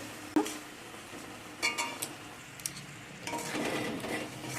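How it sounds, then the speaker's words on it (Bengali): Amla pickle being stirred in a pan over low heat: faint scraping and clinks of a spoon against the pan, a few louder knocks, and a soft sizzle building toward the end, no talking. "আবার একটু নাড়াচাড়া করে দেব"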